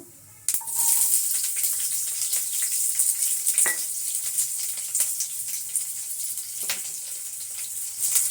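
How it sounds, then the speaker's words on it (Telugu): Mustard seeds spluttering in hot oil in a pan, a steady loud hiss and sizzle broken by sharp pops and crackles that starts abruptly and carries on close up for several seconds. "ఆవాలు చుట్టుపట్టలాడుతున్నాయి"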